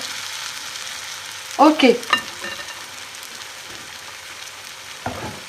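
Crepe batter for farz pitilig, a Breton specialty, cooks in foaming butter in a pan with a soft continuous sizzle, while brief scraping sounds and a short spoken word break in near the middle.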